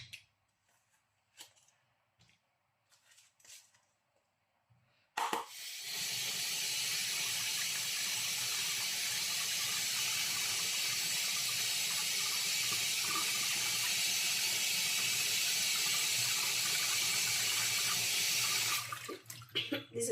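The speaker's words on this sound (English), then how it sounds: "This is why it's good to rinse it" Running tap water at a kitchen sink while fresh prawns are rinsed, a loud steady rush that starts suddenly after a few quiet handling knocks and cuts off near the end.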